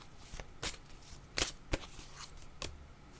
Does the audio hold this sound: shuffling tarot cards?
yes